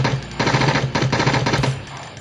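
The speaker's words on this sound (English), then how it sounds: "It's a TMP, submachine gun" A TMP submachine gun fires in the horror video game Cry of Fear, loud rapid full-auto bursts with short pauses between them, close and alone with no talk.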